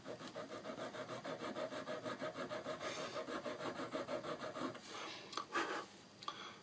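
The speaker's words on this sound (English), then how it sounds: "By filing this flat, it will help the pivot to snuggle inside the switch rail" A hand file works a flat onto a soft brass rail for a model railway turnout's switch rail, giving close, steady back-and-forth rasping strokes in an even rhythm that break into a few separate scrapes near the end.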